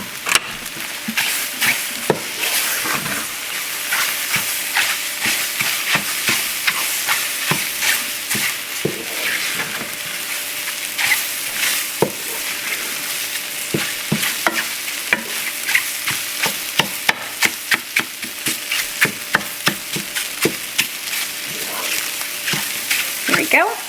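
Scrambled eggs cook in a pan with a steady broadband sizzle and frequent scraping, stirring strokes throughout, loud and close, with no talking over it.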